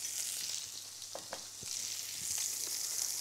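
Sweet chilli sauce heats in a pan with a steady, soft sizzle and occasional light stirring clicks, close and fairly quiet throughout.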